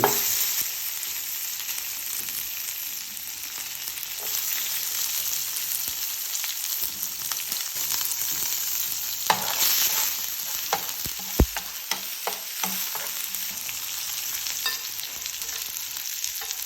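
Fennel seeds and garlic frying in oil for a pig soup, a continuous close hiss of sizzling with occasional scraping stirs and a couple of sharper knocks against the pan.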